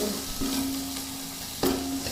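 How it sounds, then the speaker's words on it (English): Masala roasting in oil on a slow flame, a continuous soft sizzle with a couple of stirring scrapes, close by and unaccompanied by speech. "We're going to roast this masala in oil for about 2 to 3 minutes."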